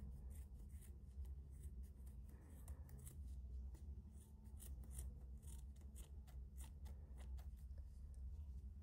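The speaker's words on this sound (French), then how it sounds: "je n'ai pas les meilleurs ciseaux du monde" Scissors cut yarn repeatedly at close range while crocheting a bookmark, a string of quick, faint crisp cuts in an irregular rhythm against a quiet background.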